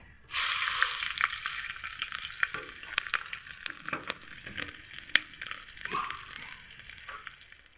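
Black cumin seeds and split whole green chilies crackle and sizzle loudly in hot oil in a pan, a steady close frying hiss with sharp pops and spits scattered throughout, no voices.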